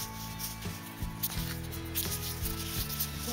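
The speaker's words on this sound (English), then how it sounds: "rub all the chocolate off." Chocolate is rubbed and scraped off a blind bag toy in soft, faint, close-up rubbing strokes, irregular and quiet, with no voices.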